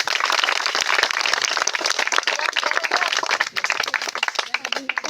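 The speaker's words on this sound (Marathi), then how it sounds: "कृपया टाळ्यांचा कडकडाट होऊ द्या" A crowd applauds at a community environmental event in Achalpur, India: steady dense clapping with a few louder claps, continuing for several seconds with some voices mixed in.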